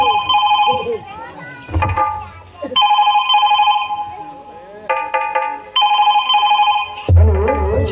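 A telephone rings in repeated electronic tone bursts with short gaps between them, fairly loud, and children's voices and chatter come through between the rings.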